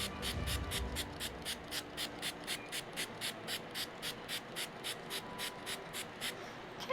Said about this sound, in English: then we'll spritz her down